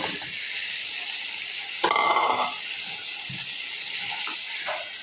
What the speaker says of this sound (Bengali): এই পর্যায়ে আমি আলুটা কিছুক্ষণ কষতে থাকব